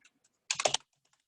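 A short, quiet burst of typing on a computer keyboard, a quick cluster of keystrokes lasting about a third of a second, with a few faint isolated clicks around it.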